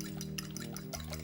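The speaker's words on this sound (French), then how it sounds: "On verse les œufs dessus les œufs" Beaten whole eggs poured over cooked pasta for a kugel, a soft wet splashing and trickling that runs steadily up close for about a second, with no talk.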